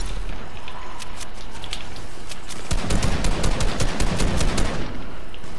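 Gunfire in a video game shootout, rapid bursts of shots crackling in quick succession, loudest in the second half, over a dense, steady game background.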